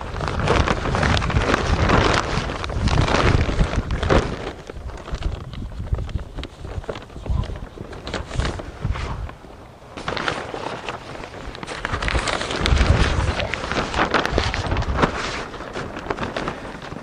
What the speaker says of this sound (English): it's a windy day and I don't want this blowing away